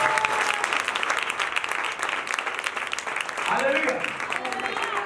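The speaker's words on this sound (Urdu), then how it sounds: "تالیاں بجا رہے ہیں" A church congregation claps steadily and enthusiastically during a sermon, sustained applause with voices speaking and calling out over it.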